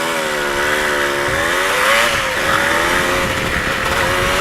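A Yamaha DT125 motorcycle on a short ride in Cebu, Philippines, its engine droning steadily and loudly close by with rising and falling pitch as the throttle shifts, with no talk throughout.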